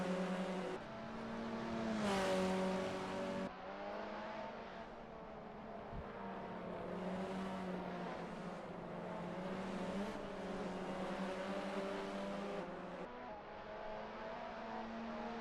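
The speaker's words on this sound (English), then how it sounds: "See a lot of traffic heading into the final turn. Ashutosh sliding his car around." Formula race cars in a sim racing game scream through traffic into the final turn. Several high engines overlap, revving and shifting, and one surges loudly as it passes close.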